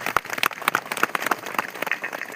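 A congregation at a Catholic Mass during a memorial stone-laying rite in Banpur, Ranchi, applauds the priests: dense, scattered clapping from many hands, fairly close and sustained for a couple of seconds without speech.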